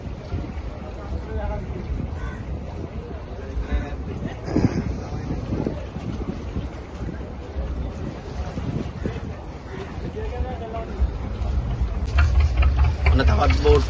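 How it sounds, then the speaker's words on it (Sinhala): A fishing boat's engine drones as it heads into shore at sea, a steady low rumble beneath strong wind buffeting the microphone and breaking surf, with voices talking faintly over it. "ඔන්න තවත් බෝට්ටුවක් එනවා."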